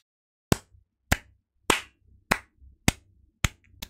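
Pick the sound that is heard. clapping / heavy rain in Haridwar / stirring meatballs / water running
clapping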